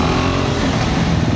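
A big-bike motorcycle engine runs in a loud, dense rumble with heavy wind noise, heard close and continuous through the short stretch, with no talking.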